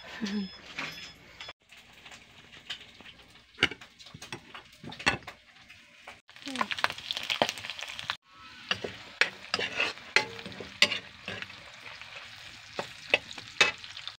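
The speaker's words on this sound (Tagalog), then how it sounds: "Ayan, nilagay ko na sa kawali. Nagisa ko na." String beans sauté in hot oil in a pan (kawali), a steady sizzle broken by irregular clacks and scrapes of a utensil stirring and tossing them, close and fairly loud in bursts.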